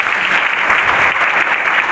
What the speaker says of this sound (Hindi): तो एक बार जोरदार तालियां इन बच्चों के लिए होनी चाहिए।